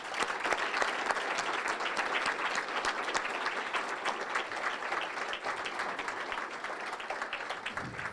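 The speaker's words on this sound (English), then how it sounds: "Please join us in another round of applause." Guests at an honors recognition dinner give a steady round of applause, a continuous wash of many hands clapping at moderate volume.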